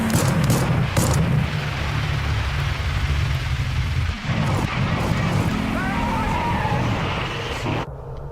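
Gunfire and explosive blasts in the action game Hell is Us, dense and loud over a continuous rumbling engine-like roar, with a sharp drop near the end.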